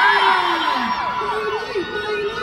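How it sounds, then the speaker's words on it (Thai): A crowd of fans cheers and whoops for LYKN at a live Makro HoReCa event, with high excited voices and shouts sustained throughout under a host's talk. "ขอเสียงเชียร์หน่อย"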